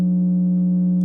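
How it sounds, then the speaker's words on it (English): A steady pure sine tone synthesized in PdL2Ork, held at one constant pitch and fairly loud, running unbroken and alone for about a second with no voices. "that's the sine wave that frequency is making right there"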